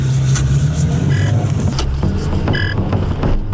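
A car pulls away during a police chase, with engine rumble and cabin creaks and clicks close by.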